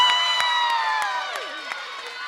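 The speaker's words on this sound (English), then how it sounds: "Please give a big round of applause for Layla Williams." Applause and cheering at a 5th grade moving-up ceremony, with bright shouts and whoops from the crowd over scattered claps, moderately loud and fading slightly.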